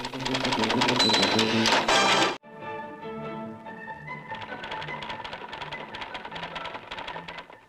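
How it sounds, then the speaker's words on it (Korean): Korean-script typewriters at a competitive typing contest with over a hundred male and female typists, a dense, loud mechanical clatter of many keys that breaks off abruptly, then resumes as a slightly quieter continuous rattling. "대구시 학원연합회에서는 한글 타자 경기 대회를 열어 관심을 모았습니다"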